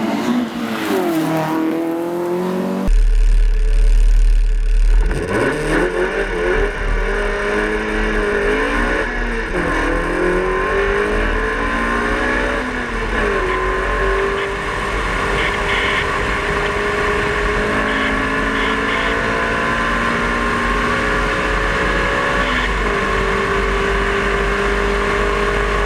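Historic race cars storm up the Simola Hillclimb, their engines screaming through repeated gear changes with pitch sweeping up and dropping, loud and sustained over a long run, then fading as they pull away.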